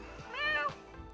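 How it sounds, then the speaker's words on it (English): A house cat meows once indoors, a close, drawn-out tonal call that rises and then falls, heard over faint background sound. "My cat's just come in."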